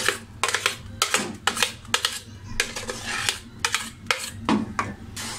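Semolina (sooji) is stirred into an eggless mango cake batter in a bowl. A spoon clinks and scrapes against the bowl in irregular, close bursts, with no voices.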